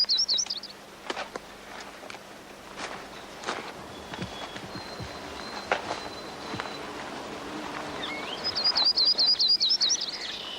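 Yellow-rumped warbler song in a mixed deciduous hardwood area: short high trilled phrases at the start and again near the end, fairly faint and distant over soft rustles and footstep-like thumps.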